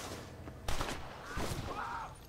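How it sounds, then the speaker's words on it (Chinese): Two gunshots ring out in Red Dead Redemption 2, sharp, fairly faint bursts a little under a second apart, each trailing off briefly over a low, rumbling game background. "对敌人，我开枪。"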